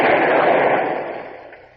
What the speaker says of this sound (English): use your bow chaser guns on the battery